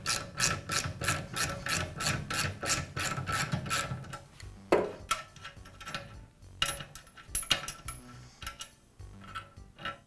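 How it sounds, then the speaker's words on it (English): A wrench works the securing nut off a Southland lawn edger's height adjustment lever, a close, rhythmic rasping ratchet for about four seconds, followed by scattered metallic clicks and clinks of loose parts, with no talking. "I'll begin by removing the nut that secures the adjustment lever."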